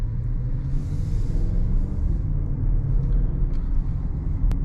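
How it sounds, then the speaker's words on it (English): A 2025 Audi SQ8 with its 4-liter V8 bi-turbo engine drives at night, giving a steady, loud low rumble throughout with continuous road and engine noise. "We've got the 4-liter V8 bi-turbo, which is just a super engine for this car"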